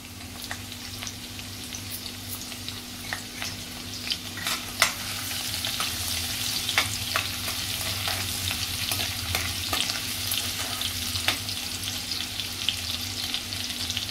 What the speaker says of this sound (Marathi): अर्धा मिनिट अगदी लसूण परतून घ्यायचं तेलामध्ये